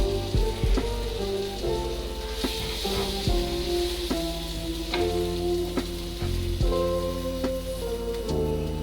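Chicken grilling on both sides sizzles as a steady, fairly loud hiss, with soft clinks and stirring taps scattered over a low hum and no voices.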